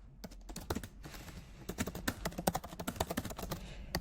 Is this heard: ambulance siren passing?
no